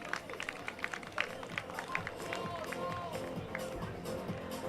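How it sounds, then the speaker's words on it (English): An audience at the U-15 football awards ceremony between Cavalier FC and Kingston Football Academy gives an award winner a round of applause. The clapping is faint and sounds distant, with crowd murmur running underneath. "Please give him a round of applause again for me"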